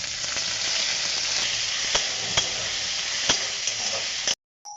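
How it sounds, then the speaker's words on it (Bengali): Onions sizzle and fry steadily in hot oil with bay leaf, green chilli and whole cumin for a mushroom curry, a close, continuous crackle with a few sharper stirring clicks before it cuts off near the end. "প্রথমে পেঁয়াজগুলো লাল লাল করে ভেজে নিতে হবে।"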